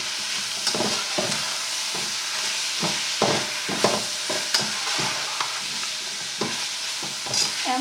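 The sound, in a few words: fajita filling sizzling in a pan on high heat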